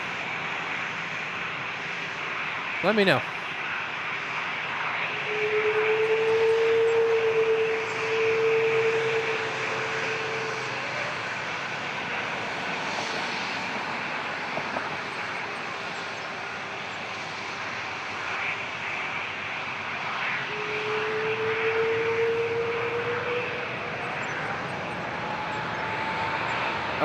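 Aircraft engines at Toronto Pearson Airport drone steadily for a long stretch, with rising and falling whines as planes pass, alongside faint air traffic radio and a brief voice.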